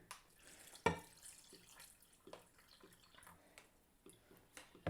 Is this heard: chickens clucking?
no